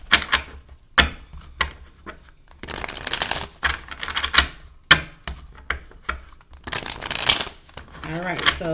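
Bursts of tarot cards being shuffled, crisp riffling rushes repeating several times, with brief speech between them.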